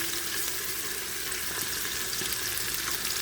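Meat frying in a pot for soup gives a steady, dense sizzle that holds evenly throughout, close and fairly loud, with no other sounds.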